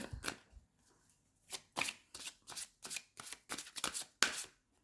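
Oracle cards being shuffled for a reading, a quick series of crisp riffling bursts in an uneven rhythm, close and fairly quiet with no talking.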